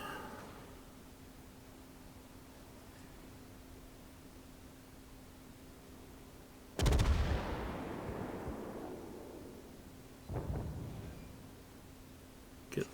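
A loud broadband blast of naval gunfire from the HMS Leander in World of Warships booms out and rumbles away over several seconds, followed by a second, lesser shot, with a low engine hum beneath.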